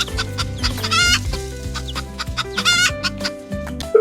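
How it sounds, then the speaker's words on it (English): A hen clucks over and over in an uneven, busy rhythm. Other fowl sounds and farmyard noise carry on underneath, loud and close. "It's a hen. Hens say cluck cluck."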